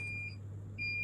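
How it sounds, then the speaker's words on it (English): A Raspberry Pi smart door lock intruder alarm buzzer emits a steady high-pitched electronic tone that dips briefly mid-way and returns, sounding over a constant low mains-like hum. "The buzzer is activated to sound and an alarm."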